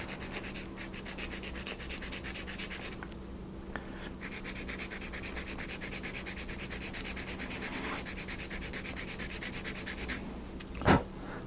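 Rapid back-and-forth rasping of sandpaper on a wood edge, beveling it slightly for a bookshelf in a house build, steady strokes running continuously with a short pause partway and a few knocks near the end.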